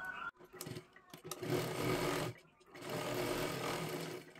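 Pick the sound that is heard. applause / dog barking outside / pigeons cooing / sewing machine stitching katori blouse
sewing machine stitching katori blouse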